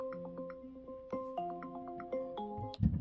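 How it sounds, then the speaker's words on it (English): A phone-style alarm sounds its short melody of bright, bell-like tones, playing close and moderately loud indoors before a scuffling handling noise cuts in at the end. "Sorry, that was my alarm, if you heard that."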